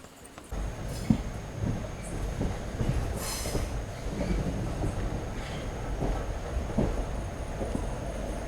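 Ernakulam Express passenger train rolling past at Tiruchirappalli Fort station, a steady close rumble of wheels and wagons with rhythmic clacks and brief squeals over rail joints, loud and continuous throughout.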